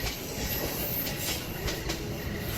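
A train at a station platform rumbles and clatters steadily, with wheels rolling over rails and faint metallic squeals, loud and close with no talk.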